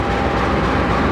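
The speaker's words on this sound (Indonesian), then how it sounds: "Ini lokomotif kereta Tawang Alun hari ini yaitu CC201-8909 Depo Induk Madiun." A CC201 diesel locomotive heading the Tawang Alun train, a loud, steady, close engine rumble with no breaks.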